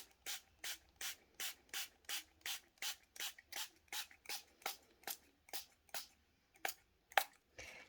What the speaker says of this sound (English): So just some water in a spray bottle.